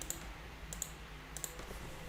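Computer mouse clicks on a desk, three faint pairs of quick double clicks spaced evenly apart, close and soft over quiet room background.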